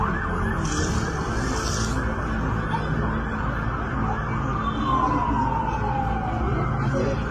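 A siren wails steadily in the distance over constant traffic rumble, with a faint rising tone sweeping through the middle.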